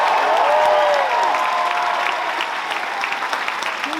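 A crowd claps warmly for the performer JT Singh, the applause loud and dense at first and then slowly thinning out, with no talking over it.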